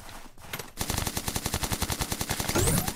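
Rapid automatic gunfire in an io video game, a fast regular burst of shots after a brief pause, loud and sustained to the end.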